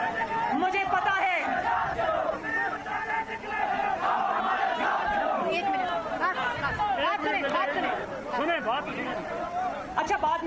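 A crowd at a Pakistan Muslim League (N) political rally in Sharda, Neelum Valley, chants and shouts slogans, loud and continuous for the whole stretch, with many voices overlapping in a dense roar.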